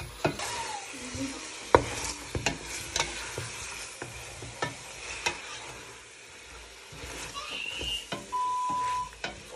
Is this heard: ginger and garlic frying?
yes